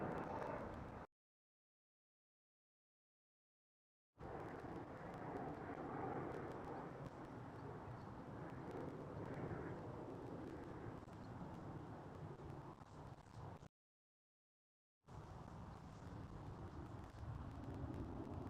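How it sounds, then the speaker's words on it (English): A British Airways airliner taking off from Schiphol airport in Amsterdam, a steady distant engine roar with wind rumble, broken by two stretches of silence. "There we go, Speedbird for the takeoff."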